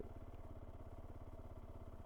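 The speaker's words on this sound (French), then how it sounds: "Et là on appuie tout simplement sur le démarreur" A Zontes 310T motorcycle engine runs steadily with a rapid, even low throb, heard close and alone; no distinct starter whine stands out, just the engine turning over at idle.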